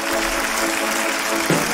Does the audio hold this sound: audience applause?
yes